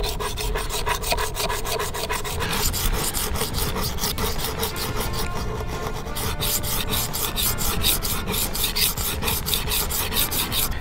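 A knife with many nicks along its edge is sharpened on a sharpening stone, producing close, continuous rhythmic rasping strokes back and forth, loud and unbroken throughout.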